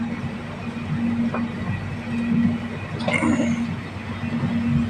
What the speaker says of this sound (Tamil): ஐயோ, ட்ரெயினுடைய ஸ்பீடு பரவாயில்ல